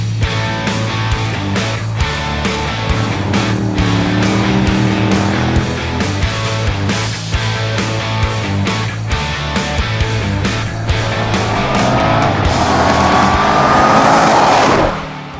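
A 707 HP Jeep Trackhawk weighing 5,300 pounds laps a race track, its engine roaring loud and close with repeated brief dips at gear changes. The pitch rises into a strained whine near the end before cutting off.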